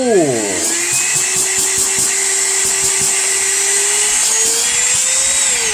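Cordless vacuum cleaner motor, a budget model with a faulty terminal, freshly repaired and running: a loud, steady high whine spins up and then holds, with a rising tone and clicks of handling close by.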